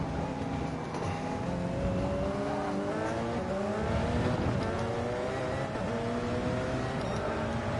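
Race cars in Gran Turismo 7 drag race toward Eau Rouge in a GR1 class online lobby, one of them a Porsche. Engines rev hard and climb in pitch, their layered roars sustained and close, with faint tire noise beneath.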